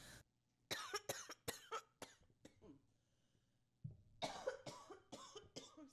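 A series of sharp, close coughs in two bursts separated by a quiet pause, each fit made of several rapid harsh hacks.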